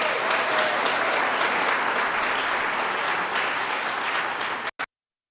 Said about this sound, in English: Barbara Bartoletti, let's give her a round of applause